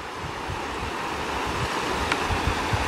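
Floodwater from an overflowing river (wadi) rushes steadily during the 2023 floods in Morocco, a loud, continuous broadband roar with surging turbulence and no voices.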